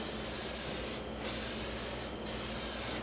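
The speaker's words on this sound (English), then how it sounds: "what we're going to do on the one end is we're just going to spray it for adhesion" Adhesive sprayed onto the slate of a pool table under new cloth, a loud continuous aerosol hiss broken by two short pauses, close to the listener.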